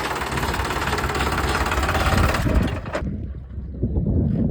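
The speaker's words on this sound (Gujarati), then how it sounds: "આ આપણે 14મું ટ્રેક્ટર" Idling tractor engine among a long line of parked tractors, a steady close low throbbing rumble with some knocking, thinning out and quieter near the end.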